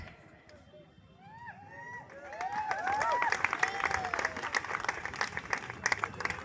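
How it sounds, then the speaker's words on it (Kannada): Audience applause and cheering at a bodybuilding show, rising from scattered claps into a sustained crowd roar with whistles and chirping calls layered on top. "ಚಪ್ಪಾಳೆ ಆಗ್ಬೇಕು ಈ ಸ್ಟೈಲಿಗೆ"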